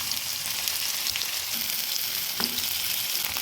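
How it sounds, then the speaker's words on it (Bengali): Pumpkin fries in white oil tempered with nigella seeds, a dense bright sizzle running continuously up close, with a few soft stirring clicks. "দিয়ে দিচ্ছি কিছুটা সাদা তেল, কালো জিরা ফোড়ন, দিয়ে দিচ্ছি কুমড়োটা"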